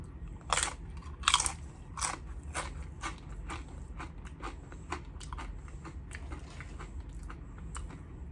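Crunchy bites and chewing of a marinated pork al pastor taco from a New York taqueria, two loud close crunches early, then steadier softer mastication continuing alone.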